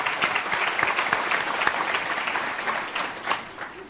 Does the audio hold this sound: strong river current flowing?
no